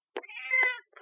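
A cat meows in two close calls followed by a short third one, near and clear against silence, with no talking.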